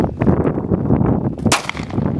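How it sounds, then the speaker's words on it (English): Gunshots on a tactical rifle and pistol course come as loud, close, booming cracks in quick succession, with a sharp report near the end. "4 shots, buddy."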